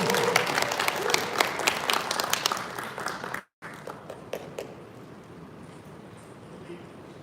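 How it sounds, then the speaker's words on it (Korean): Loud applause from an audience at a presentation event, many hands clapping together, cut off abruptly midway and then continuing more softly and sparsely. "큰 박수 부탁드립니다."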